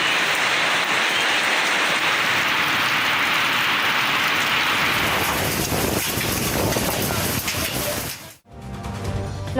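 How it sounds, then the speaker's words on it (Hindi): Morning rain falling in Lahore, a dense, loud, steady hiss of rainfall close by that stays constant before cutting off abruptly near the end. "लाहौर के मुख्तलिफ इलाकों में सुबह सवेरे बारिश"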